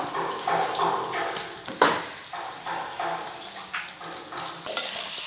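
Raw banana pieces go into masala frying in oil and get stirred, giving scraping clatters and spoon knocks against the pan over a soft sizzle, with one sharper clank partway through.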